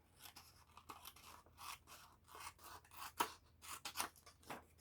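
Large scissors snip through paper for junk-journal crafting, a quick run of crisp, close cutting strokes with soft rustling between, no talk.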